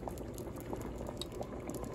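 Liquid goes into a pot for a Filipino sweet corn, barley and tapioca dessert with coconut milk, making a steady bubbling, simmering wash of sound at close range without speech.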